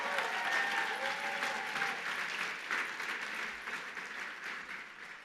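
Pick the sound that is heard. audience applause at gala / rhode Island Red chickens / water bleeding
audience applause at gala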